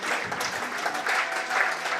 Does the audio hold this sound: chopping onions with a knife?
no